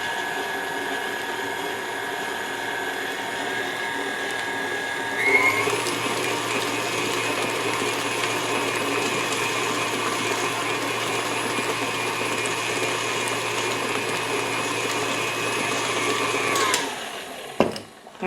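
A stand mixer beats two-thirds of a cup of sugar into New York cheesecake batter in a bowl, a steady loud whirring drone that starts abruptly, runs evenly for about twelve seconds, then cuts off.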